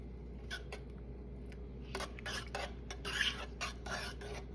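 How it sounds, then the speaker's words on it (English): A spoon stirs a pot of bulgur wheat as butter melts in, giving several soft scraping, clinking strokes in irregular bursts over a low steady hum, quiet and close, with no talking. "we're going to stir our pot a little bit just so the butter can be dissolved"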